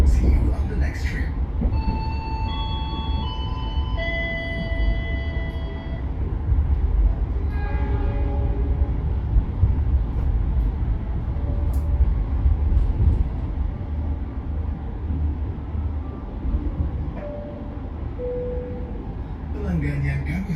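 The Taksaka luxury passenger train of PT KAI Indonesia rolls along with a steady low rumble inside the carriage, with brief tonal squeals and hums rising over it and faint voices.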